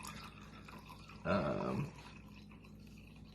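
Water poured from a cup into a bowl of soupy focaccia dough, one short close gurgling splash lasting about half a second over faint room noise.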